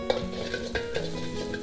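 Garlic, ginger and green chillies frying in oil in a pan for chilli chicken, a close sizzle with a few quick scrapes and light clinks of a utensil, brief and without talk.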